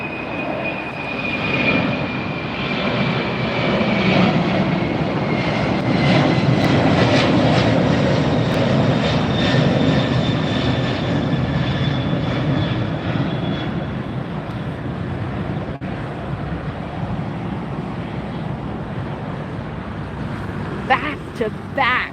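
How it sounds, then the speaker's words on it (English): FedEx jets departing back to back at LAX roar with a broad, sustained engine rumble and a high whine, loud and steady before slowly fading. "Back-to-back FedEx departures"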